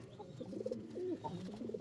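Pigeons coo softly in a low, rolling murmur, several short throaty calls overlapping up close in a quiet space.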